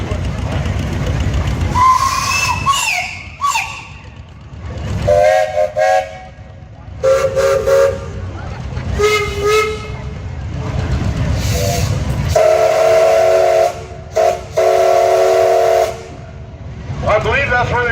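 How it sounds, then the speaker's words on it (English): A 1913 Gar Scott steam tractor fitted with several steam whistles blows a series of loud, close shrill blasts in different pitches, with hissing steam between them. "we're going to blow these whistles, so let's cover our ears, because he's got like 5 or 6 whistles"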